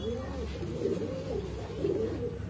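Pigeons kept for sale in Bangalore coo softly in a loft, repeating low, throaty rolling calls over a steady background hum.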